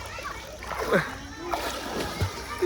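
Several splashes in dirty, smelly water of the kind found at a buffalo stable, with sloshing bursts near the one-second mark and a voice talking over them.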